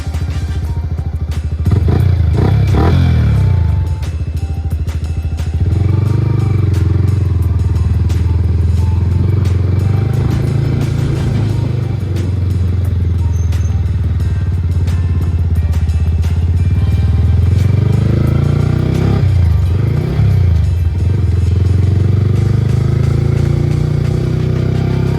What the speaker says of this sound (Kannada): ಎಕ್ಸಾಸ್ಟ್ ಮಾತ್ರ ನೆಕ್ಸ್ಟ್ ಲೆವೆಲ್ಗೂ ಒಳ್ಳೆ ಬೀಟ್ ಇದೆ.